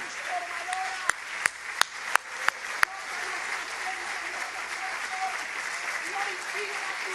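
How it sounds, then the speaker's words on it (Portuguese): A church congregation applauds in a steady, fairly faint wash of clapping, with several sharper, louder claps standing out near the start and background voices mixed in. "Podemos dar um aplauso para Deus pela sua palavra eterna, poderosa, transformadora"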